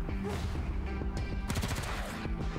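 Gunfire from a battle in the video game Wasteland 3: rapid bursts of shots and impacts, including a dense volley midway, layered over game music and effects, loud and close throughout.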